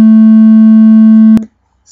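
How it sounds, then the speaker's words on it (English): A pure 220 Hz sine test tone sounds loud and steady for over a second, then stops abruptly, leaving silence. "right now we have our 220 hertz sine wave playing in the output"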